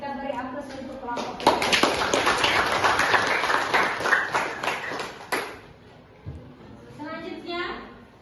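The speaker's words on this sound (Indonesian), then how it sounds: "Kita beri aplaus untuk kelompok." A classroom of students claps for the group that has just presented, a dense burst of applause lasting about four seconds before tapering off, with brief talk and scattered claps around it.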